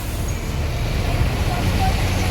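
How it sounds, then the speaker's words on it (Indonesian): Several buses in a convoy pull away, giving a steady low engine rumble and road noise at close range, with faint speech mixed in. "Jadi 3 bus ya berangkat ya"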